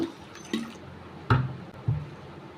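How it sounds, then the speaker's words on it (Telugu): Water is poured onto a small glass of moong dal in a bowl, producing a few short, close splashes and gurgles spaced about a second apart. "ఒక చిన్న గ్లాసు పెసరపప్పుని ఒక బౌల్లో వేసుకుని వేసుకున్న తర్వాత వాటర్ వేసుకుని"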